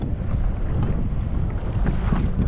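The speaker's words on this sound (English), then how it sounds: "Wind's starting to pick up, so gonna troll back to the harbor all the way back there" A small boat trolling on the ocean off Newport Beach, California in rising wind, a continuous low rumble and wind buffeting against the microphone with splashing water, no voices heard.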